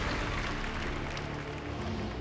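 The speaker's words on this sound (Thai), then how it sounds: "ขอเสียงปรบมือดังให้กับคุณเปียโนครับ" A game show studio audience gives a round of applause, a fairly soft, steady wash of clapping under a low background hum.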